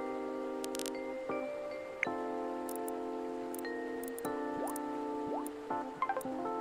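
A dog's water bowl being filled in a video game, soft dripping and trickling water over a quiet tonal game background, faint and intermittent with short splashy bursts.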